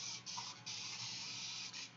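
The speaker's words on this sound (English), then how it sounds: "Okay, now we spray." Aerosol spray paint hissing from a can in a steady, continuous burst with a couple of brief gaps, close and fairly loud, with no talking over it.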